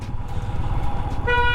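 Town traffic in Shimla rumbles steadily, and a car horn blares in a sustained toot near the end. The engine noise is close and the scene carries no speech.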